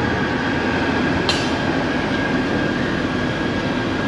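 Local KCR passenger train running on rails near Orangi railway station in Karachi, heard as a steady, loud, continuous rumble of wheels and carriages with one brief sharp click, no talk.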